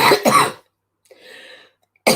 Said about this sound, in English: and maybe a cough.